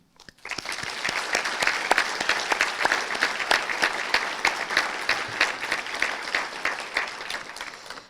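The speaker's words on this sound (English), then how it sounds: "let's also applaud these hardworking students one more time" Sustained applause from a crowd, dense clapping that starts abruptly and holds steady throughout, with no voices standing out.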